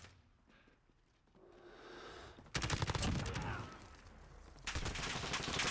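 Rapid bursts of automatic gunfire come from the Call of Duty video game. The fire breaks out abruptly after a quieter stretch, pauses briefly, then resumes as dense, continuous rattling at a low overall volume.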